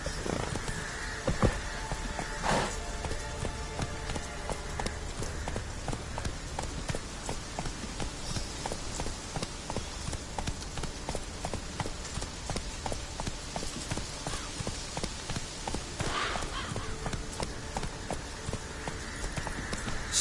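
Roach, the horse in the Witcher 3 video game, gallops in a steady rapid clip-clop of hooves that runs the whole time, with game ambience and occasional sharper accents layered over it.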